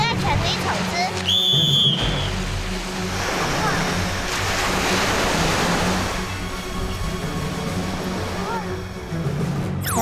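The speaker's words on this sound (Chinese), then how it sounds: "在那个瀑布前进" Continuous loud roar of rushing water from a waterfall at an outdoor obstacle course, broad and steady for the whole stretch, with brief clatter and shouts near the start.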